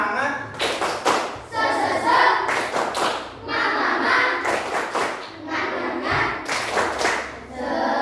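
Schoolchildren performing a classroom spirit clapping routine, with loud bursts of patterned group claps and thumps up close, mixed with children's chanting voices.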